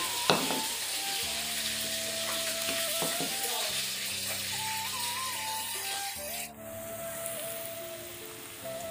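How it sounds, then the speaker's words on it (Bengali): Continuous crackling sizzle of fish frying in a saucepan, with clinks and steady background tones, then a louder hiss of oil near the end. "এই একটা সসপ্যান রয়েছে, মাছ ভাজা হবে"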